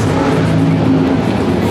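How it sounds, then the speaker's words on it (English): Loud car engine revving close by at the Mooneyes Christmas Party 2025 car show, a steady throaty roar held without a break for under two seconds. "Loud car time."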